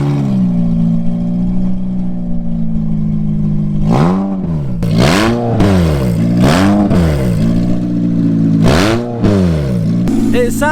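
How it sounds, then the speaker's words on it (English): A Toyota Celica VVT-i, 190 bhp, idles roughly and then revs hard in a series of loud, rising and falling blips, close to the microphone and aggressive. "Watch how loud this car is."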